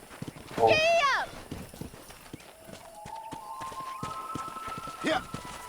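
A horse in the video game Red Dead Redemption 2 clip-clops in a steady rhythm under a short, loud whinny at the start, with background music tones and another brief call near the end.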